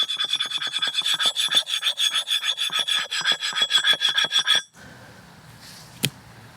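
A metal screwdriver scrapes hard across a Dekton countertop in a fast series of loud, rasping strokes, close up and alone for about four and a half seconds, then stops, leaving quiet room tone and one small tap.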